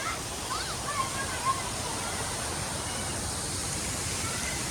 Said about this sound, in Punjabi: ਦੇਖੋ ਕਿੰਨੀ ਤੇਜ਼ ਭਰਦੇ ਪਏ ਆ